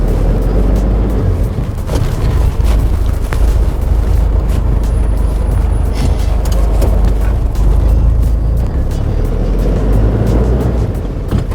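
A JAC N80 truck pulls away and drives off, its engine giving a loud, steady rumble with road and cab noise throughout, no talk.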